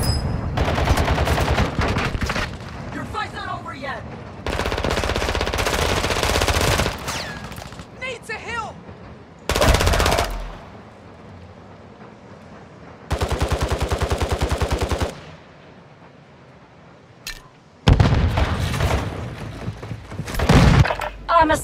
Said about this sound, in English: Take effective fire!